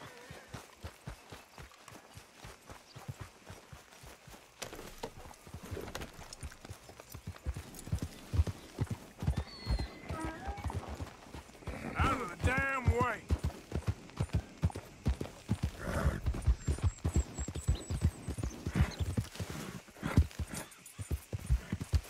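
A horse in the video game Red Dead Redemption gallops with a steady, rapid clip-clop of hooves that grows louder and more driving, with a brief whinny in the middle and game ambience underneath.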